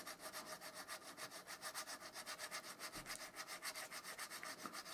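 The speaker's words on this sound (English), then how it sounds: "just getting that sanded back" A sanding stick rubbed steadily over a model to smooth back a mistake, giving a fast, even back-and-forth scratching rhythm of about a dozen strokes, close and clear, with no talking.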